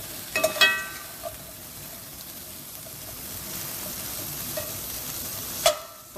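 Cauliflower and other vegetables fry in a pan with a soft, steady sizzle, broken by a few brief clinks and stirring scrapes.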